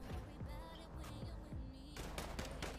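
Faint gunfire crackles in quick bursts, a run of sharp shots piling up near the end over a low tonal background hum.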